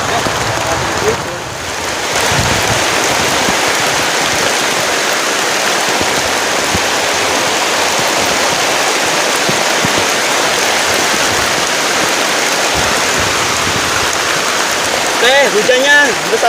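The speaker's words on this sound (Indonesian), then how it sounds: "hujannya besar banget" Heavy rain pours steadily onto a camping tent during a storm, a dense, loud, unbroken hiss that runs from start to finish, with people speaking faintly over it.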